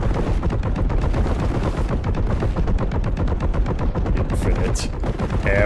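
Relentless rapid-fire bolter shooting in Warhammer 40,000: Boltgun, a dense, loud, unbroken stream of heavy automatic blasts with a few brief tonal pings near the end.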